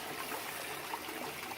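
Water flows through the two-inch plumbing of a backyard aquaponic garden system. A soft, steady trickle and rush runs without a break for a second and a half, with no voices.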